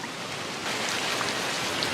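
Stormy rain falling in the northern Serengeti, a steady broadband hiss of heavy drops that swells slightly louder partway through and holds constant with no voices.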